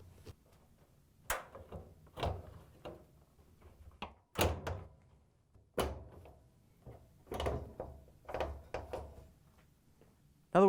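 The bulkhead of an LG/Kenmore front-load washer is set into the cabinet and its tabs locked in, giving a series of sharp plastic-and-metal clunks and knocks with quiet pauses between, close and fairly soft.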